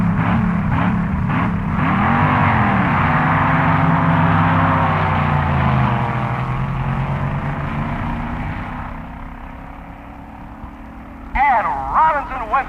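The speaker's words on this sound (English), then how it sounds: "Now he's coming to the line to face the surprise car of the year, Pete Robinson's wild-running AA dragster." Pete Robinson's AA dragster with a Chevy engine at a 1961 NHRA drag race, a loud droning engine roaring steadily and then fading, with a voice talking over the rumble.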